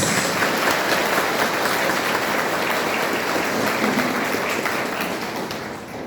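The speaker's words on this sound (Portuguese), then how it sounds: "vamos acolher uma calorosa salva de palmas" Warm applause fills a church congregation during a Mass of thanksgiving at a chapel, steady dense clapping throughout that eases slightly toward the end.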